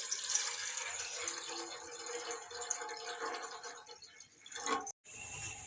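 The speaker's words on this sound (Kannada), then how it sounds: "2 ಗ್ಲಾಸ್ ಆಗೋಷ್ಟು ನೀರು ಹಾಕಿದ್ದೀನಿ." About two glasses of water pour into a cooking pot holding black peppercorns, making a steady, faint splashing hiss that cuts off abruptly near the end.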